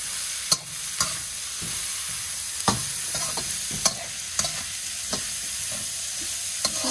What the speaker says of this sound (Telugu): ఇప్పుడు ఆనియన్ వేయించుకున్నామండి